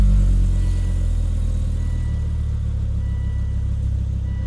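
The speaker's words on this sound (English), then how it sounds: "And then turn on the engine." A Volvo car engine starts and settles into a steady, low idle, close and continuous with no talking.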